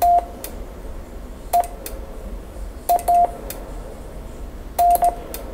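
Morse code letters sent as CW tones at 20 words per minute for learning: short, steady, mid-pitched beeps in small groups separated by pauses, over faint background hiss.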